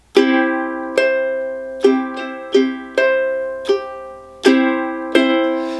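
Ukulele split strokes in a strum pattern, played very slowly: eight bright, ringing chord strokes spaced evenly about a second apart, each decaying before the next, close and clear with no talking.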